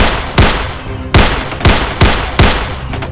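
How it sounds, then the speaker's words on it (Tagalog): Heavy video game gunfire with soldiers and bandits, loud repeated bursts of shots roughly every three-quarters of a second, each with a sharp crack and ringing tail, dense and close with no talking. "Maraming putukan."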